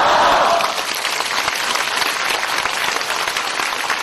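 Applause from a lecture audience at a Buddhist talk in Kuala Lumpur, Malaysia: dense, loud clapping that swells at the start and then holds steady throughout, with a faint voice briefly at the opening.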